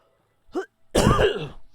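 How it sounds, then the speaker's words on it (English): A short throat-clearing grunt, then one harsh, forceful cough close by, with no talking. "I needed to cough or I was going to choke on it"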